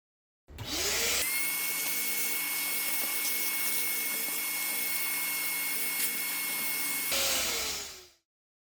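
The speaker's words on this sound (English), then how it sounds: "I am going to vacuum the area, it's a bit dirty" A steady, high-pitched motor whine runs continuously for several seconds, starting and stopping abruptly, like a small vacuum cleaner running close by, cleaning the engine area of a 2016 Kia Niro hybrid.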